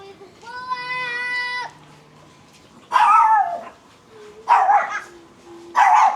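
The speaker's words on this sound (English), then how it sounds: "You get greeted by dogs every time you walk out the door." Dogs in Southeast Asia give a drawn-out whining yelp, then three loud, sharp barks spaced about a second apart, close by.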